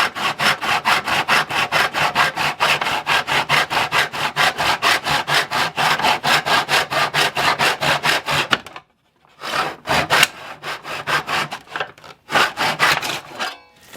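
Hand sawing of wood pieces cut to length for a video game and controller station, a steady rhythmic back-and-forth rasp of about thirty quick strokes, then a pause and a few slower, uneven strokes, close and loud.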